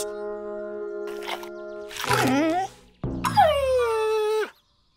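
A dog whines in two drawn-out, wavering whimpers, the second higher and longer, over a steady musical background.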